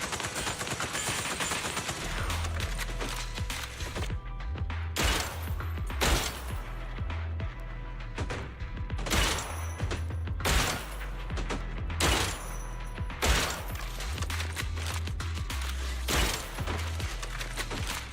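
Sustained gunfire in a shooter video game, with dense bursts of rapid shots and repeated volleys crackling loudly throughout, punctuated by sharper individual cracks.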